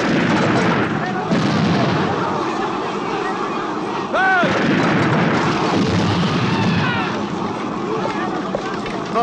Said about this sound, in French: Deuxième canon!